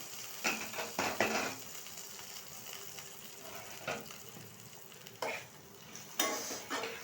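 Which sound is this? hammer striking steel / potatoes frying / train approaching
potatoes frying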